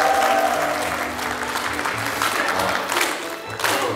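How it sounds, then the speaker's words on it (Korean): Audience applause fills the hall at an anniversary celebration marking two years of the district mayor's term, steady and broad throughout as the mayor is welcomed forward, with a brief swell near the end. "큰 박수 부탁드립니다"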